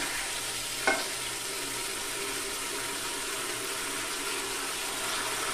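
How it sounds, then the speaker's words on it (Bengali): Potatoes and drumsticks sautéing in spice masala over raised heat give a steady, broad sizzle and hiss throughout, with one brief sharp clink near the start and no talk. "এই মশলার ভিতরে আমি আলু আর সজনাটাকে একটু কষিয়ে নিব, সেজন্য আঁচটাকে একটু বাড়িয়ে দিলাম।"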